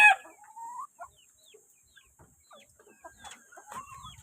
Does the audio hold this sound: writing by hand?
no